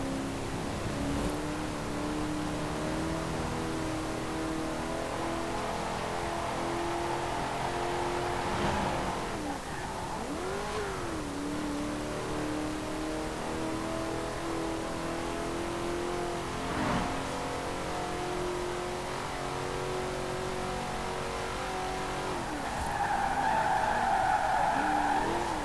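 A throaty V8 engine of a 1968 Pontiac Firebird in Forza Horizon 4 drones continuously and close, rising and falling in pitch as it revs, with tires squealing during hard turns.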